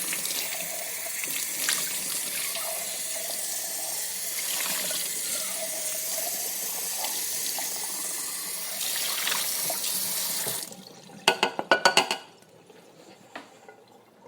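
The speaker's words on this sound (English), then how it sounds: "I'm just rinsing out the can and the jar that the stuff of the sauce was in" A tap runs steadily into a kitchen sink while a can and a jar are rinsed, a loud continuous splashing rush for about ten seconds. Then it cuts off, followed by a few quick clinks and knocks of the containers.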